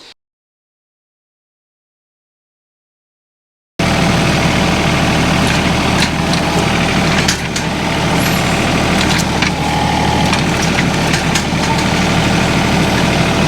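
A few seconds of silence, then a loud, steady tractor engine idling close by in a woodyard, a constant low rumble that runs on without change.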